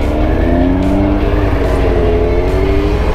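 An Audi RS3 revs and drives past near a beach, its engine note rising and sliding in pitch over about three seconds, loud and close, with no talk.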